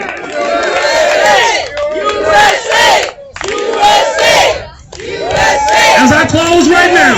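A parade crowd chants "USA" in loud, ragged unison. The chant swells in repeated bursts, with short dips between them and background chatter underneath.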